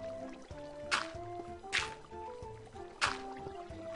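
Water in the Minecraft video game sloshes and splashes in three short bursts over a steady wash of in-game ambience and faint tones, with no talking.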